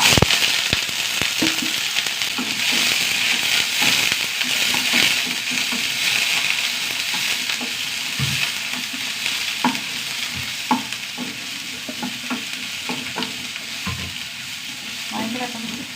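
Mustard seeds, curry leaves, green chilies and onion frying in coconut oil make a loud, dense crackle and hiss that settles into steady sizzling, with occasional pops and stirring clacks; no speech.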